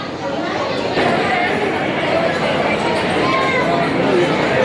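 A dense crowd chatters at Shri Kal Bhairav temple in Ujjain, a steady, loud wash of overlapping voices filling the space throughout with no single voice standing out.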